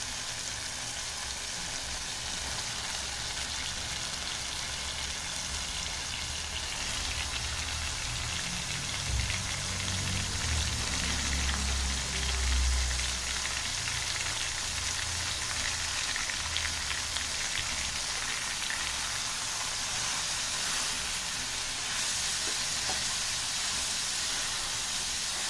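Spring onion greens and crushed peanut powder frying in oil in a pan, a steady close hiss and sizzle with a brief burst of stirring and bubbling near the middle.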